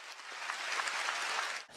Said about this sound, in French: la chancelière allemande a été très applaudie